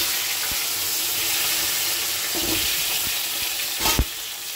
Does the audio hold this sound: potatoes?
yes